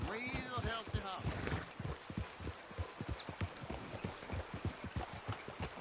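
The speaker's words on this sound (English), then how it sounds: "Your horse got some real healthy hops." Horse hooves clip-clop steadily on a road in Red Dead Redemption 2, a fast, even rhythm of close hoofbeats running throughout, with a voice speaking over the first part.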